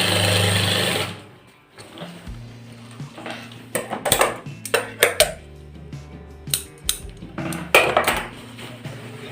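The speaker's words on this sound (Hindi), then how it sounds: "ये हम दूसरे फ्रंट की शोल्डर पर सिलाई लगा रहे हैं।" A sewing machine stitches a shirt shoulder seam on an apple cut shirt: a loud, fast whir first, then a quiet gap, followed by clattering needle taps and short mechanical runs nearby.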